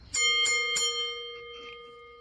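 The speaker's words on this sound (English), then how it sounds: "I'm going to start things off here and ring that bell" A wrestling ring bell struck three times in quick succession, bright metallic clangs with a sustained ringing tone that slowly fades out.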